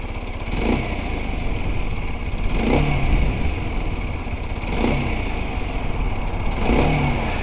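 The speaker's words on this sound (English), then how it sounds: "when you pull that throttle back, you want the revs to go sky high" A small 125cc Kawasaki motorcycle engine revs up in neutral and falls back repeatedly, about four steady throttle blips over a constant buzzing idle, loud and close.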